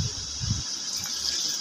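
Water runs steadily with a soft, continuous hiss and gush as a cup is filled for making tea, with a faint low voice at the start.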